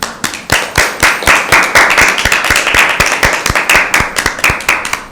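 A group applauds loudly for team A at a school Bible quiz, clapping in a fast, regular rhythm of sharp, close claps that run on steadily for several seconds.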